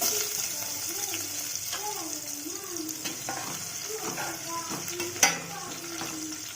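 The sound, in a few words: bitter gourd frying in hot oil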